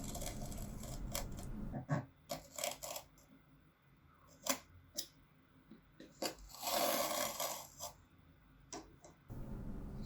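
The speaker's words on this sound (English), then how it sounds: "Now let's cut a few strips from another piece of scrap." Scrap leather being cut into strips, with a series of sharp close snips and crunchy cuts, some in quick bursts, separated by quiet pauses and a longer rasping stretch.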